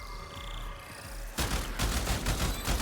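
Railjack torpedoes launch in the video game Warframe: after a low ambient hum, a sudden dense burst of crackling, booming blasts rolls on steadily to the end, loud and close, with no talk.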